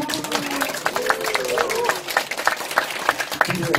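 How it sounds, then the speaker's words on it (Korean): Audience applause at a business presentation, scattered clapping with distinct individual claps over a murmur of voices and chatter, moderately loud and fairly close. "박수 한번 줍시다."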